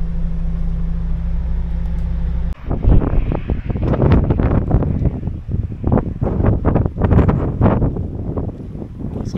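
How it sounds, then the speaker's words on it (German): Strong seaside wind at a truck parking spot by the Great Belt, buffeting the microphone in loud, rough gusts; a low steady hum runs briefly before the wind suddenly bursts in and keeps roaring and fluttering throughout. "Es ist richtig schön windig."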